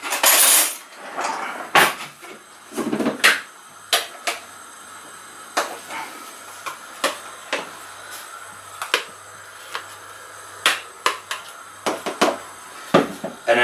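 A spoon clinks and scrapes irregularly against a glass holding a thick iced chocolate ISO whey protein shake, sharp close taps spaced unevenly over a quiet background, with no talking.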